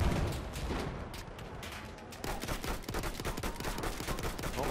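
Rapid bursts of trench gun fire in Battlefield 1, loud repeated shots mixed with battlefield gunfire, getting denser and heavier partway through, with no talking.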